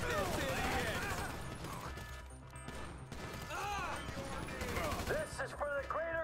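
Gunshots in GTA 5 crack out amid busy game sounds, with sharp bursts of fire over a dense backdrop and voices talking over the action.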